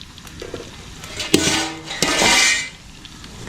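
Chicken pieces frying in a pot over a wood-fired stove, with a few metal clinks and scrapes of stirring over a soft sizzle, close by and without talk.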